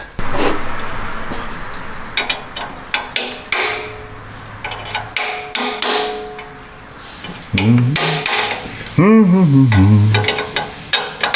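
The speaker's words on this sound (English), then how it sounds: "Let me get a little hammer, see if we can't expose it." Sharp metallic taps and clinks from a small hammer on threaded parts of a Toyota Camry under welding repair, irregular and close, mixed with scraping and handling noises and a brief voice.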